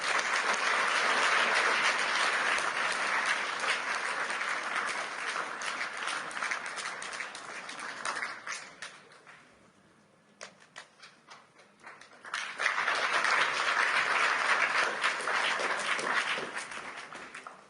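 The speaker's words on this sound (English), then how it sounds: "so we can give them also a big hug and applause" Sustained audience applause for co-chairs invited on stage at a Davos meeting, loud dense clapping that fades to near quiet midway, then swells back up strongly before tapering off.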